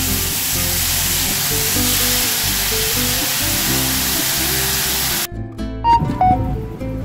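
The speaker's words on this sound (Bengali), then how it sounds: "দিয়ে দিচ্ছি এতে 3 চামচ টমেটো বাটা আর 1/4 টিস্পুন হলুদ গুঁড়ো দিয়ে এবার ভেজে নেব" Tomato paste and ground turmeric fry in hot oil in a pan, a loud, steady sizzle that cuts out abruptly partway through, followed by quieter clinks and light handling noises.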